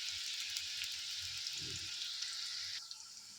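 Sliced onions fry in hot oil with a steady, soft sizzle and crackle at close range, briefly stirred midway, tapering slightly near the end.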